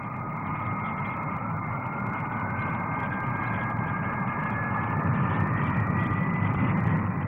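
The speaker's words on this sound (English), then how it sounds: "The English Electric P-1, a supersonic fighter." An English Electric P-1 supersonic fighter jet roars past at a Farnborough air display, a loud sustained jet engine rush that swells slightly toward the end, with no talking.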